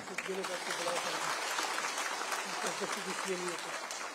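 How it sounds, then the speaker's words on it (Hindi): Audience applause at a Hindi political speech, a dense steady wash of clapping lasting about four seconds, loud and continuous with faint voices mixed in. "जोर से तालियां"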